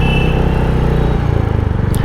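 A Royal Enfield Hunter 350 engine runs steadily while the bike is ridden, a loud, close, low thumping drone that carries a slight rise in its pulsing rhythm partway through.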